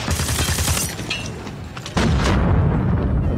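Loud explosion bursts and heavy gunfire in a Call of Duty match, with a sharp jump in the rumbling blast noise about two seconds in, continuing dense and booming with no talk.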